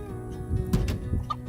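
Chickens clucking close by in short, irregular bursts, with a few sharper squawky notes mixed in.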